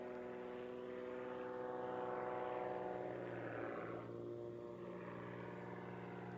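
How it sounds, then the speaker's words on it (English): Propeller aerobatic airplane at a national competition, its engine surging and easing through power changes during a push square loop, a steady droning roar that swells in the middle and then fades slightly, heard alone. "You hear a lot of power changes as he's navigating the sequence into his push square loop."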